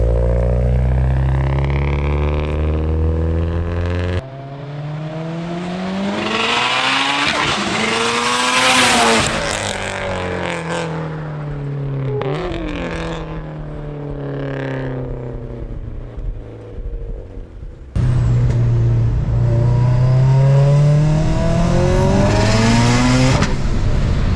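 Big-turbo 2019 Subaru WRX STI tuned for higher boost, roaring in from a distance, revving hard through gear changes as it sweeps past close by, then accelerating away loudly with pitch rising and falling.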